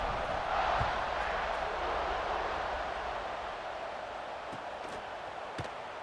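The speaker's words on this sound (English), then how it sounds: "this crowd is buzzing after that last score" Stadium crowd in EA Sports College Football 26 video game, a steady broad roar of buzzing fans held throughout at an even level, with faint thuds and no clear speech.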